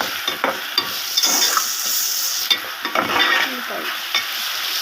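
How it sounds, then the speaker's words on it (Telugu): Goat blood fry sizzles in a pan while being stirred, with a continuous hiss punctuated by scraping and clinking strokes of the spatula at close range. "ఇది బాగా ఫ్రై చేసుకున్నాం ఫ్రెండ్స్"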